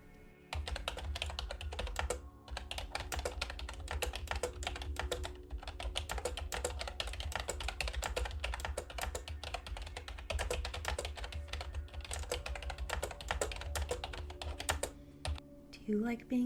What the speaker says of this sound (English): share the sound of my new keyboard and the lovely clickety-clack it makes